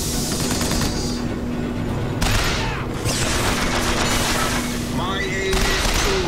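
Continuous heavy machine gun fire in the shooter Bioshock Infinite, dense and loud throughout, with bursts of explosive booms and surges layered on top and no pauses.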